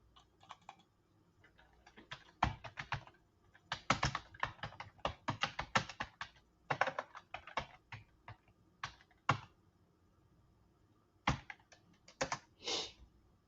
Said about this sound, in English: Let me just type it in so people won't think I'm off.